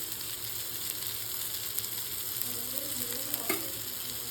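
Eggplant masala frying in oil on a tawa over a low-to-medium flame, a steady close sizzle with faint stirring scrapes and a brief clink near the end, no voices.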